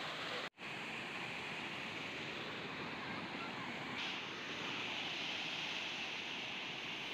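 A small village waterfall that flows only in the rainy season, its water pouring down forcefully, gives a steady, loud rushing roar close by that stays constant throughout.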